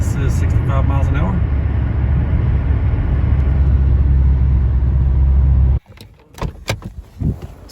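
Steady loud road roar and engine drone from inside a vehicle pulling a trailer at 65 mph, a continuous broadband rumble that stops abruptly near the end, followed by a few quieter knocks and rustles.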